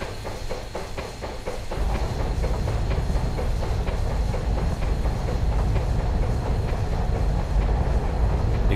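A steam locomotive on the New Haven Railroad rolls slowly through low-speed yards in a train simulator game, with steady rhythmic chuffing and clattering wheel beats, loud and continuous from start to finish.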